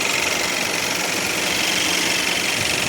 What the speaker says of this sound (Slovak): Motor má takto relatívne pekný chod.